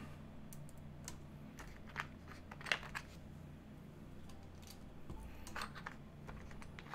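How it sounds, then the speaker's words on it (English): Faint, scattered clicks and light plastic taps come from keycaps being pressed onto a Klippe-S keyboard, irregular and close over a low steady hum. "I know I'm super slow at putting keycaps on."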